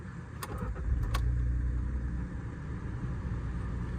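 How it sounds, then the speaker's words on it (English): A VW Up 1.0 small hatchback fires up on a warm day: a brief starter crank gives way to a low, steady idle hum from the little three-cylinder engine, heard close from inside the car. "I think I'll start the car up and put the aircon on. So let's do the startup sequence."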